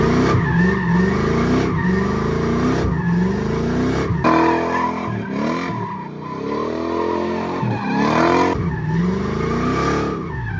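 A car drifting around a cone during driving practice, its engine revving and falling in repeated surges while the tires squeal in long sweeping screeches, loud and close, with no talking.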